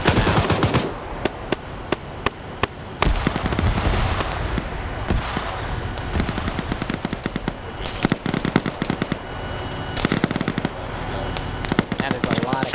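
Sustained machine gun fire from a support weapon in a military video game, long rattling bursts broken by brief gaps and sharp loud cracks, with someone talking over the shooting.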